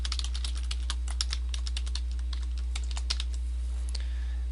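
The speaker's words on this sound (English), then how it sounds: "type in your website name." Quick, steady typing on a computer keyboard while entering a website name, with crisp, close key clicks in an even rhythm over a constant low electrical hum.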